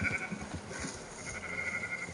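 Sheep in Red Dead Redemption 2 bleat in a few short, wavering calls, fairly close and clear over a soft, low background of game ambience.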